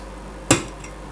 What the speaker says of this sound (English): just a bit of a tap with a rubber or fibre type hammer generally clears them